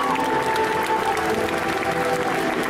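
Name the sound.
applause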